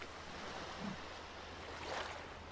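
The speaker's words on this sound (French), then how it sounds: "Écoute ce chuchotement des vagues mêlées au léger souffle de l'air" Soft ocean waves wash in a steady, hushed wash, a light breeze blowing over them, with a gentle swell rising near the end; calm and fairly faint, no voices.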